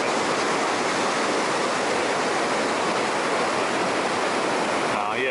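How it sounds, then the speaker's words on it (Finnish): Powerful rapids on the Hiitolanjoki river roar steadily down a narrow, steep channel, a dense, close, unbroken wash of rushing water that fills the whole clip. "Tosi rajusti virtaa vettä."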